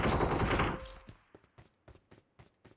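PUBG Mobile gunfire: a loud, dense burst of automatic fire that cuts off, followed by a string of sharp, fainter single shots at irregular intervals.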